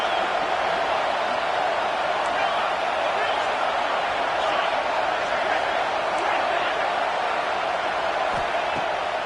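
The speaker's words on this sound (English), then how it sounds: "This crowd bringing the energy and noise early." A dense, steady roar of a large crowd at a college football game, broad and constant throughout, with faint scattered shouts rising from the wash of noise.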